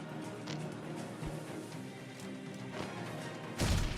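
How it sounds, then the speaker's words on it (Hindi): Grenade blast in the battle royale game BGMI, a sudden loud burst near the end following quieter in-game thuds and movement. "जिसके ऊपर मैं ग्रेनेड करता हूँ"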